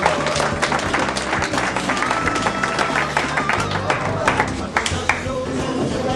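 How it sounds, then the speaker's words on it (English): An audience at a gang-intervention leadership program gives a dense, steady round of clapping for volunteers, lasting several seconds without a break. "I want you to give a big round of applause for our volunteers."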